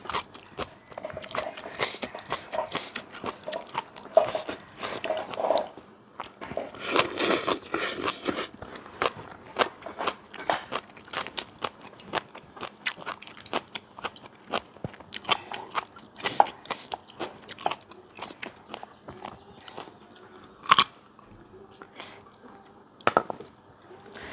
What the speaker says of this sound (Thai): รอบนี้ดองลูกเนียงคือดีมากกรอบทุกเม็ดเลย